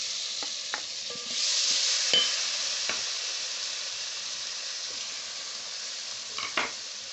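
Tomatoes go into a hot pan with curry powder and turmeric for a bean stew and sizzle steadily, with a brighter hiss as they land and a few soft scrapes of stirring over the continuous frying.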